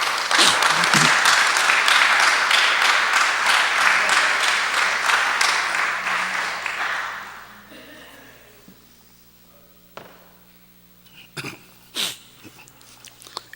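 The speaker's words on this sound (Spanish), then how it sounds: "Denle un aplauso a Jesús mejor." A church congregation applauds for Jesus, loud dense clapping for about seven seconds that fades out, followed by quieter scattered sounds and a few sharp knocks or claps.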